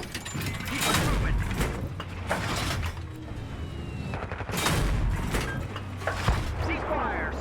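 Gunfire in Battlefield 3's Thunder Run tank mission, heavy booming shots and rattling bursts over engine rumble, with voices talking through the fighting.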